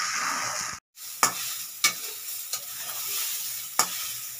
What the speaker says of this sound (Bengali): তো এখন 2-3 মিনিট এটা একটু ভেজে নেব।